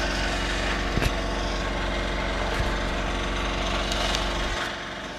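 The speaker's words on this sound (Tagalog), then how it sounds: "Tuloy-tuloy lang ang construction ng mga kapitbahay niya dito." Neighbors' construction work near a beachfront house carries a continuous, droning engine-like whine from power tools, with a few knocks and a drop in level near the end and no voices.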